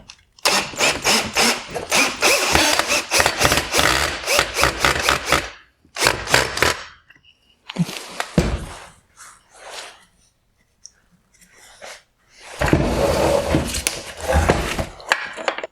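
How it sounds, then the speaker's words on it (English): A Phillips screwdriver loosening the adjusting bolt on a 2016-2018 Kia Sorento halogen headlight projector, close loud rapid scraping and ratcheting bursts separated by short pauses. "I will simply use a Phillips head screwdriver to loosen the adjusting bolt."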